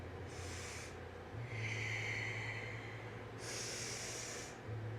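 Breathing during kundalini yoga side bends: two strong, hissing nasal breaths at the start and end, with a softer, airy breath between them, close and alone over a low background hum.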